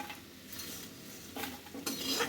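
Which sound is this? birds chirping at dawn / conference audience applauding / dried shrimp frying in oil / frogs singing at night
dried shrimp frying in oil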